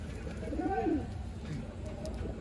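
Pigeons of a quality breed for sale in Bangalore coo softly in a low, rolling call near the start, over steady background noise and faint voices.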